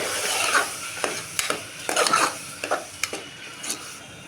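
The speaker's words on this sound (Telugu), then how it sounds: "దీంట్లో ఇప్పుడు దోసకాయ ముక్కలు టమాటా ముక్కలు రెండు వేసేసుకుందాం ఇప్పుడు ఇవన్నీ ఒకసారి కలిపి చేసుకుందాం" Cucumber and tomato pieces get stirred into frying onions in a pan for dosakaya kurma, giving a steady sizzle broken by several sharp scraping knocks of a spoon against the pan.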